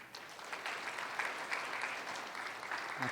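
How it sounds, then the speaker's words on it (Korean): A church congregation claps for a prize winner at an afternoon worship service, a thick, sustained round of applause that swells slightly after a quiet start and stays steady, with no speech heard. "박수."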